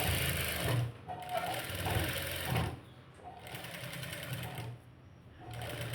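A sewing machine stitching thread piping onto a blouse, running in a close, steady mechanical whir in short bursts separated by brief pauses.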